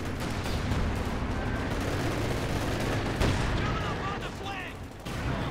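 Battle gunfire in the real-time strategy game Company of Heroes 2, a dense, continuous rumble of distant shots and explosions over a busy battlefield, with a commentator talking throughout.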